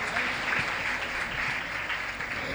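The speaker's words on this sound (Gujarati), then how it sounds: "જોરદાર તાળીઓથી આપણે એમ તેમને વધાવીએ" Steady applause from a crowd welcoming guests at a school book launch, dense and continuous throughout with no pauses.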